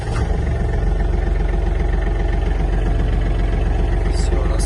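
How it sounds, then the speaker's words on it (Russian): A Kubota GL-25 Japanese mini tractor with a cab runs at a steady idle, its diesel-like low engine rumble close and continuous without talk. "Запустим трактор."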